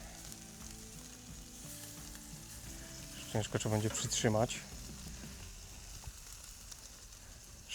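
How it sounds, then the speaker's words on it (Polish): Beef tenderloin and asparagus sizzle steadily on a grill at high heat, a constant close frying hiss throughout, with a person speaking briefly midway. "szparagi skwierczą cały czas."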